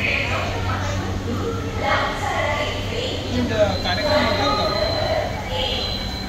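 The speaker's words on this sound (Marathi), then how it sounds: "ही बघा मेट्रो" A Mumbai metro train hums and rumbles as it slows into a station, with a crowd murmuring and a person talking over the steady noise.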